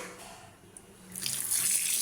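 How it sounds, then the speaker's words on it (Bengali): Tap water runs into a sink while pieces of cut kaski fish are washed. A soft trickle swells into a loud steady splashing rush close by. "এখন ভালো করে ধুয়ে নেব।"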